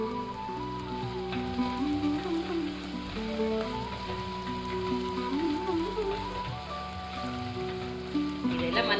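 Onions sizzle steadily in a hot pan for dal fry, a dense continuous crackle with a faint tonal hum running underneath and no talking.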